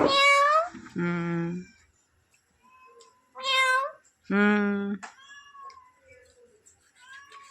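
A talking parrot imitates a cat's meow with four loud, drawn-out calls separated by short gaps, each close by and clear, followed by softer chirps and faint sounds.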